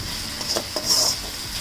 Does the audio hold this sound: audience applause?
no